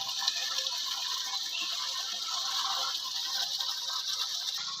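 Jaggery water pours steadily into a slurry container made with desi cow dung, giving a continuous hissing, splashing stream that stays even and fairly close for the whole stretch.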